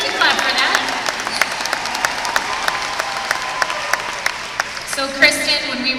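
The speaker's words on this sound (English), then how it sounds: "you can clap for that" Studio audience clapping during a home-business interview, a steady wash of applause with sharp individual claps, a voice talking over it near the end.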